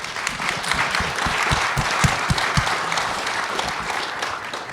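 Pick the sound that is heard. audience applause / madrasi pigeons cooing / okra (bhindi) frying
audience applause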